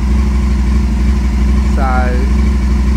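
An Aprilia Caponord motorcycle engine idles loudly and steadily up close, with one quick rev partway through, while someone talks over it.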